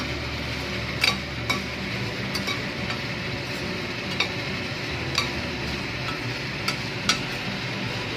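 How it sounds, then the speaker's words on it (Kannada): Dry red chillies frying for a spicy red chutney, stirred in a pan: a constant low sizzle with light ladle taps and ticks against the metal every second or so, no voices. "ಈ ಒಣ ಮೆಣಸಿನ್ಕಾಯಿನ ಫ್ರೈ ಮಾಡ್ಕೋಬೇಕು. ನೋಡಿ ಇದನ್ನ ಹುರ್ಕೊತಾ ಇದ್ದೀನಿ ಚೆನ್ನಾಗಿ."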